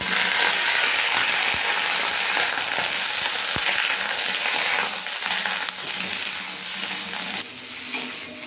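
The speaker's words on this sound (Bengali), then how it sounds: "কাঁঠালি কলাটা দিয়ে মিনিট পাঁচটা ভেজে নিয়েছি" Raw bananas fry in a pan with browned onions, giving a loud, dense, continuous sizzle close up, with a few faint knocks of stirring and a slight drop in intensity toward the end.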